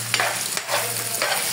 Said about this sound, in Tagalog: At igisa natin siya sa bawang sibuyas para